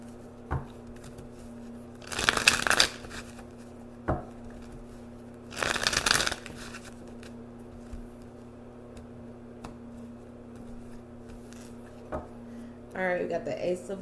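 Two short riffle shuffles of tarot cards sound up close over a low steady hum, with scattered soft taps between and a brief voice at the end.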